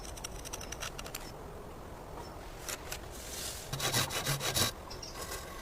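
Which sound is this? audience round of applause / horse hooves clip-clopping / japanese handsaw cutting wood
japanese handsaw cutting wood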